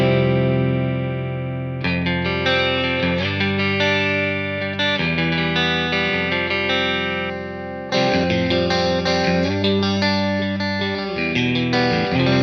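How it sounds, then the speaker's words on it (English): An electric guitar played through a Revv Tilt Boost pedal set to the brighter, crisper side rings out in full, sustained strummed chords with a thick, slightly distorted tone, loud and alone. "I can turn it the other way to kind of add a little bit more crispiness to it and take away some of the flub."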